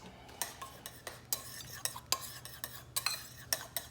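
Fish is mixed with seasoning in a bowl, producing faint, irregular clinks and scrapes of a utensil against the dish with soft stirring in between, quiet and close.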